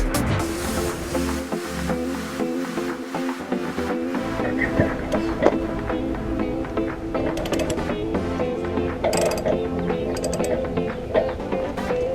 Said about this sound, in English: 1 1/16 socket to remove the rod.